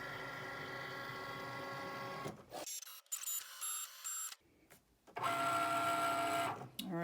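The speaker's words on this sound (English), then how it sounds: "I'm putting in my blade, so it's going to cut the rectangle" A Cricut cutting machine fitted with a fine point blade cuts a card rectangle, giving a steady motorized whirring with tonal whine, broken midway by a short pause and quieter shuffling before the carriage resumes loudly near the microphone.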